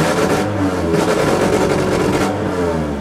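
A car engine running on 152-proof Everclear alcohol fuel idles and revs roughly, holding a loud, steady drone with some clatter for about three seconds, close to the listener.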